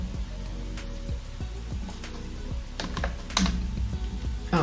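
Someone types on a computer keyboard, giving close, irregular clicks and taps with a few louder keystrokes. The sound is alone over a quiet background.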